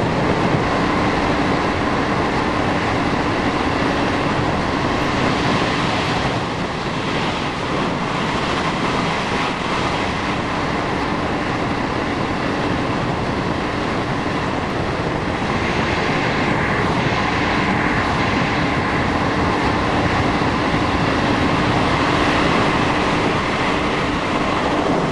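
ALe 582 electric and ALn 668 diesel railcars running on Italian track near the Pescia Ovest high-speed interconnection, a steady loud rolling rumble with faint rhythmic clatter throughout, no voices.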